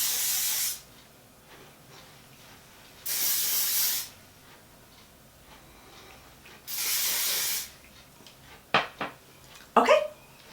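Hairspray sprayed onto hair from an aerosol can: three separate hissing bursts of about a second each, close and fairly loud, with quiet pauses between them and a few small clicks and taps near the end.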